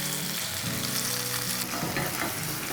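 Tofu pieces fry in a hot pan with a steady, loud sizzle and crackle throughout, joined by some stirring or shifting of the pieces, with no voices.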